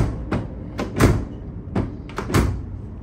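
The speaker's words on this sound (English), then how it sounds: "So this door now, we close it." Doors on a 2023 Ford Transit van are shut several times after unibody repair work, giving a series of close, solid thuds and clunks in uneven succession. No speech is heard.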